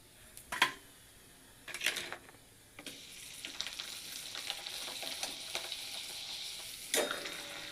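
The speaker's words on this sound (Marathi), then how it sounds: "इथे मी साबुदाणा आणि बटाट्याचे पापड तळून घेणार आहे." Sabudana and potato papads fry in hot oil in a kadhai, with a steady close sizzle broken by several sharp bursts of crackling as pieces hit the oil and are moved about.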